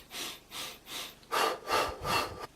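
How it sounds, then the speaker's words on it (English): Rhythmic breathing while running, inhaling over four steps and exhaling over four, heard as six close, even breaths with steady pulses and no talking. "So I was breathing in on 4 and breathing out on 4."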